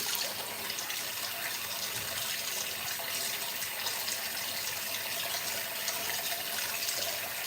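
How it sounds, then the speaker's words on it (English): Tap water running steadily while a beard is rinsed at a sink, an even hissing splash that holds at the same level from start to finish, close and unbroken. "So I just finished rinsing out my beard."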